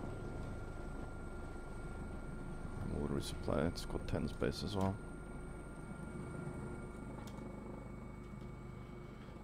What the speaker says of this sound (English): Is that an enemy helicopter trying to?